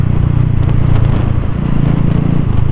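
A bored-up Honda Supra motorcycle with a spec-54 engine, running on Vivo Revvo RON 89 fuel, revs loudly and up close, holding a steady, buzzing engine drone.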